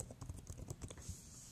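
Fingers type a short burst of quick, soft keystrokes on a computer keyboard, close and quiet, in an uneven rhythm over faint background hiss.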